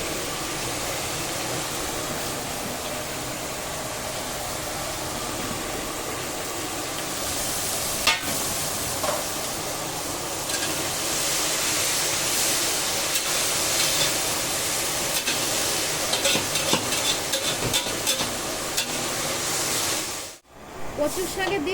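Steamed taro pieces hit a hot frying pan in oil left from hilsa fish, setting off a steady, loud hiss and sizzle. Brief stirring clatters ride on top, and a voice talks over it.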